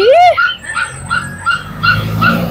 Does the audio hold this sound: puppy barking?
yes